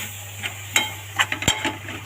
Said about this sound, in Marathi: जरा हलवून घेते असं